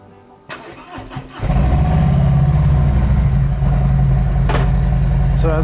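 A motorcycle fitted with a Drag Specialties Predator III seat fires up after a few clicks and settles into a loud, close, rumbling idle that holds steady, with brief knocks and a faint voice in the background.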